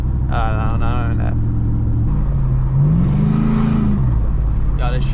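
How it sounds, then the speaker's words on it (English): A modified truck engine revs in the cab, a steady low rumble with a rising and falling rev swell midway, while people talk loudly over it at the start and end. "Yo, this truck sounds so good."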